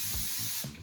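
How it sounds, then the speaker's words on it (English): Cooking spray hisses from a can into a crepe pan in one steady, close burst lasting under a second, with a brief change in tone at the very end. "So I spray"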